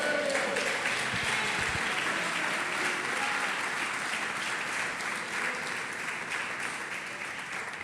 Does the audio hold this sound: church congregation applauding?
yes